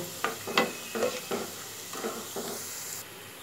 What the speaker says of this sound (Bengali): এটাকে আমি আর একটু ক্রিস্পি করে ভেজে নেব